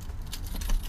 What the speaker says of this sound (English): Keys. Oh, keys me.